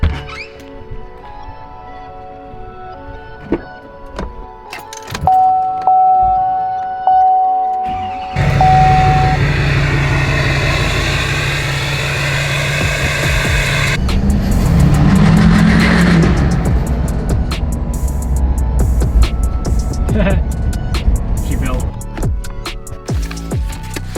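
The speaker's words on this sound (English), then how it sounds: "Let's jump in the Duramax, head out, do some rippers" Duramax pickup truck, a diesel with a history of transmission trouble, driving on the road with a steady low engine rumble and road noise close by after a quiet stretch.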